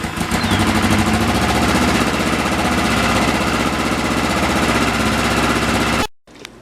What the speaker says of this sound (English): it's good to let each one run and bring it right up to operating temperature